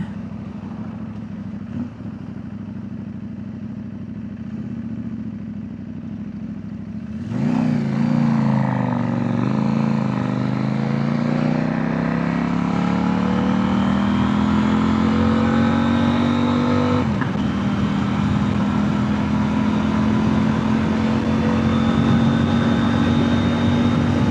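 A CFMOTO 800NK motorcycle engine idles with a low rumble, then is revved up sharply and held, the pitch sweeping down and climbing steadily before a second rise; loud and close, with no talk.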